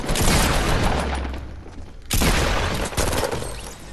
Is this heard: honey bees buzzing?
no